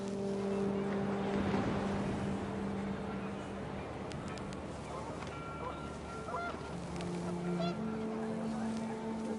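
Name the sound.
panicked geese in video game What Remains of Edith Finch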